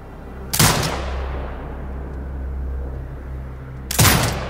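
A turret firing in the video game Sniper Ghost Warrior Contracts 2: two loud, sharp blasts about three seconds apart, each followed by a long rumbling decay.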